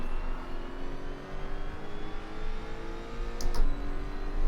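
A race car in the Assetto Corsa video game at the Paul Ricard track drones with a steady engine whine as it rolls along, rising slightly near the end, with no talk.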